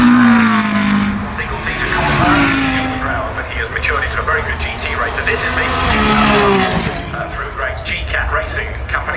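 A race car charges rapidly up the Goodwood Festival of Speed hill in 2019. The loud engine swells and recedes through repeated upshifts, with rising pitch sweeps and a brief squeal of tyres.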